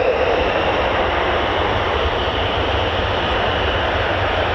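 A fighter jet taxiing at RAF Lakenheath, home of the 48th Fighter Wing flying F-15s and F-35s, gives a loud, continuous jet roar and hiss that holds steady throughout, with no talk.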